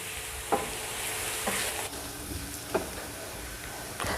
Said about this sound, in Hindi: तड़का तैयार हो गया